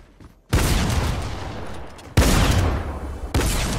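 Rapid automatic gunfire in a Fortnite creative mode match comes in three sustained bursts, loud and dense, each starting abruptly with no talk over it.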